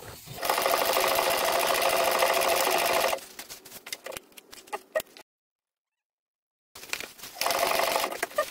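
A sewing machine stitches a seam on a laptop bag, running in a loud, steady whir for about three seconds, then scattered small clicks and a silent pause before the motor starts up again.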